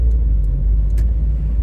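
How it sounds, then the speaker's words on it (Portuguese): A car approaches along a one-way street in São Leopoldo, RS, where flood mud and dirt still cover the road. Its low, steady engine rumble is close and continuous throughout, with no voices. "aí tem carro vindo ali"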